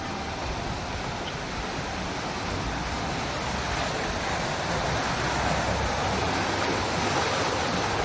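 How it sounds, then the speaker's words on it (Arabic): A hotel's artificial waterfall rushing steadily, a dense, even roar of falling water that stays loud and unbroken throughout, with no voices. "الشلال ده تحفه"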